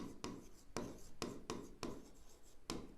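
Pen writing by hand on paper in a commerce accounting exercise, with quick scratchy strokes and regular taps as letters and words are formed, close and quiet, with no speech.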